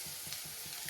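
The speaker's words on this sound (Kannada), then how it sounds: "ಮಸಾಲ ಫ್ರೈ ಆಗಬೇಕು ನನಗೆ." Masala for Maggi noodles sizzles and fries in a pan, giving a steady crackling hiss with faint stirring pulses.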